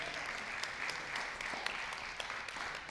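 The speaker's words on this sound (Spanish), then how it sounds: "Denle un aplauso al Señor." A church congregation claps steadily and densely throughout, the applause fairly faint and distant, with no voices standing out.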